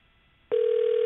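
A telephone call to a marketing company, heard as a steady ringback or dial tone that starts abruptly halfway through and holds loud and unbroken after a brief quiet lead-in.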